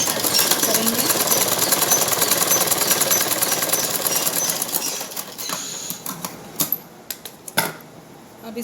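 A sewing machine stitches lace onto a blouse with a fast, steady mechanical rattle that runs loud and continuous before stopping, followed by a few scattered clicks and handling knocks, with a voice talking over the sounds.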